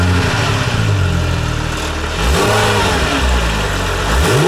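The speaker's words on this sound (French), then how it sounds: "On va écouter le moteur" Porsche 997 GT3 RS 4.0 flat-six engine revving loudly up close, rising and falling through several sharp throttle blips over a steady idle, with no voices.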